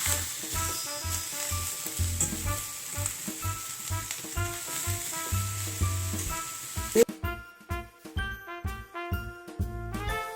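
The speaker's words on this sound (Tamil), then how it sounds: "இப்போ வந்து இது நல்லா வதங்கட்டும்." Vegetables for chicken Manchurian sautéing in a pan, a bright continuous sizzle under rhythmic low knocks of stirring, then dense clinks and taps of a utensil against the pan.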